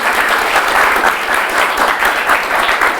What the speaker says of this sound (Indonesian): Tepuk tangannya boleh teman-teman mahasiswa.